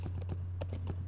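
Horse hooves clip-clop in a steady trot across the Lord of the Rings Online game world, several quick even strikes over a constant low hum, moderately close and fairly soft.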